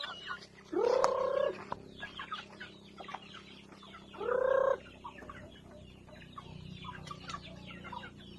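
Organic chickens being fed on a rural farm, with two loud rooster-like crowing calls standing out over steady background clucking and general yard noise.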